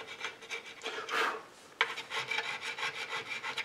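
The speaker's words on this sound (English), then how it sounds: "the way I'm doing that is using these needle files" A small needle file rasps back and forth across the wooden hull of an old model boat, with close, quiet strokes in an uneven rhythm and a brief pause before the filing resumes.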